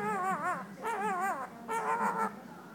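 A pet myna bird imitates a dog, giving three short whimpering, yipping calls with wavering pitch, close and clear, with no talking over them.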